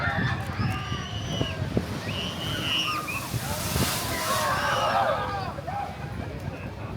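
Water splashing from a ride at SeaWorld San Antonio, a broad rushing wash in the background under crowd noise and nearby talking voices, with chirping sounds scattered throughout.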